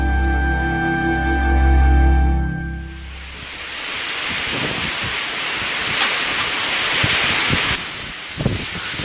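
Heavy rain pours down steadily on Yakushima island, a dense continuous broadband hiss that swells in after a quieter start and stays loud and close throughout.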